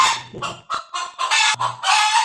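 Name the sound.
pet chickens clucking at a city home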